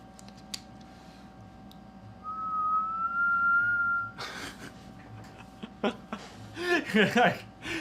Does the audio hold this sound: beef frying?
no